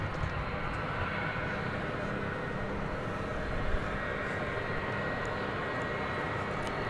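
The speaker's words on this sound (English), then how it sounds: "I hear an airplane revving up." Boeing 757 jet engines revving up at DFW airport at night, a steady broadband roar that holds at a constant loud level throughout, with no talk over it.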